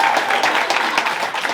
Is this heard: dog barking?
no